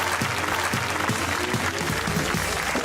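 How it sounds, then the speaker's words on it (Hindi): A studio audience at a comedy talk show applauds steadily, a dense close clapping that holds at full strength from start to finish. "ताली होनी चाहिए, बहुत अच्छा खेला इन सबने।"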